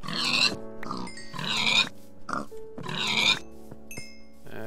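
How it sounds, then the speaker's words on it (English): Pigs in the video game Minecraft give several close, loud grunting oinks in uneven bursts, with quieter game sounds between them. "Some pigs."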